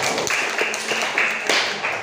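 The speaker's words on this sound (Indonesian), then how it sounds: "Boleh tepuk tangan untuk Vivi." A short burst of clapping from a small classroom group, steady broadband patter with a few sharper individual claps, fairly close.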